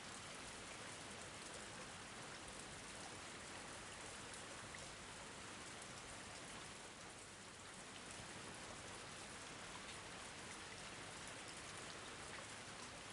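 Steady, dense rain pours down in a video game scene, a constant hiss of drops on surfaces that stays even and close throughout with no other sounds.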